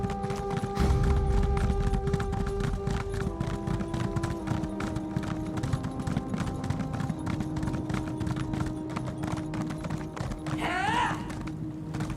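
Horse hooves clip-clop steadily at a gallop in The Elder Scrolls Online, a continuous rhythmic beat close by over game music, with a brief whinny near the end.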